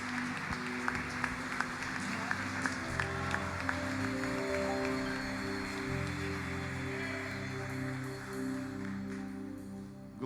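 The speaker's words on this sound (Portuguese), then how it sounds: "aplauda o nome do Senhor em nome de Jesus." A church congregation applauds during a Portuguese-language worship service, a sustained patter of clapping over steady sustained tones of music or keyboard that continues for the full length.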